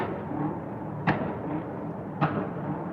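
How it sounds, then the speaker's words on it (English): Two sharp, loud bangs about a second apart ring out over a steady background rumble, a car backfiring on a Las Vegas street heard from a high hotel balcony. "Yeah, those are backfires."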